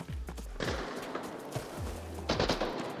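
Distant gunfire in the video game Arena Breakout Infinite, a fight at a villa: repeated bursts of shots with booming tails, steady and moderately loud throughout.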